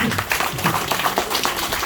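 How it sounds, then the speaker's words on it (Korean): Audience at a clan memorial and award ceremony applauds scholarship recipients with a burst of dense hand clapping, close and loud, lasting the full moment. "모두 축하를 드리고 큰 박수 한번 보내주십시오"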